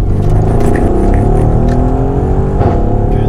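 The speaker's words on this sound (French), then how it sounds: "Bon, petite accélération quand même, pour nous mettre dans le bain tout de suite." A Mercedes GLE AMG 63S with a 580-horsepower engine accelerates hard, its loud, close engine note rising steadily as it pulls through the gears, heard from inside the car without talk.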